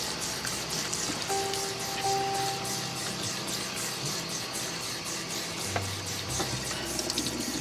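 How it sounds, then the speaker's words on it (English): Cold water runs steadily from a tap over rice in a strainer, a continuous splashing patter with faint clinks. "So rinse the rice with some fresh cold water."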